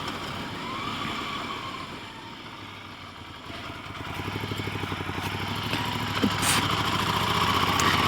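A 2019 Ducati Desert Sled Scrambler motorcycle engine drones steadily while riding, mixed with constant wind rush, and it grows slightly louder and fuller partway through.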